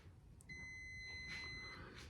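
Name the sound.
beep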